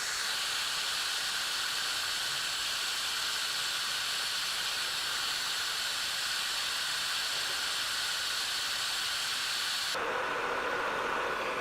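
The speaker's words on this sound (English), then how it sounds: "the solder's now melting" Solder melting under a soldering iron while joining two wires with a soldering connector, a steady broad hiss lasting throughout that abruptly thins and drops near the end.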